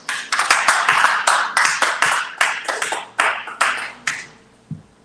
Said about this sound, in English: I was going to give a round of applause to Joy.